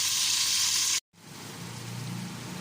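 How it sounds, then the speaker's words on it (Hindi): Chicken and onion fry in a pan with a loud, steady sizzle that cuts out for a moment, then resumes a little quieter. "लेकिन चिकन जो है इसको तो पहले फ्राई करना ही पड़ता है।"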